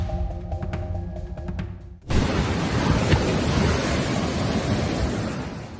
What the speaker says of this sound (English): Massive waves can hurl heavy objects like shipping containers ashore, showcasing the sea's terrifying power.